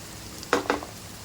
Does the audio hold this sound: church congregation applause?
no